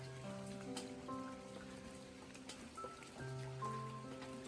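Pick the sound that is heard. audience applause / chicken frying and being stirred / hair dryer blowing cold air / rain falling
rain falling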